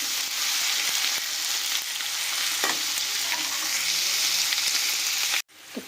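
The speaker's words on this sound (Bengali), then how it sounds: "এবার পেঁয়াজটাকেও আমরা খুব ভালোভাবে ভাজা করে নিচ্ছি।" Onions frying steadily in a hot pan for a Bengali snake-gourd dish, a dense continuous sizzle with a few stirring scrapes, cutting off abruptly near the end.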